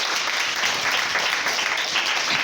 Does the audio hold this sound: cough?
no